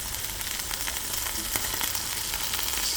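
Grass-fed 80/20 beef patties frying in a pan give off a steady, close sizzle with crackling pops throughout, without any talk.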